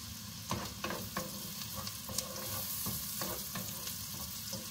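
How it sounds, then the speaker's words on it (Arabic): Onion and garlic fry in a pan for a creamy mushroom soup, giving a steady close sizzle broken by several soft scraping stirs. "نستناو على البصله والثومه يتشحروا"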